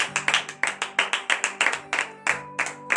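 Congregation clapping in praise during a morning prayer service in Benin; about a dozen sharp, evenly spaced claps in a steady rhythm, close and fairly loud, with a sustained tone underneath.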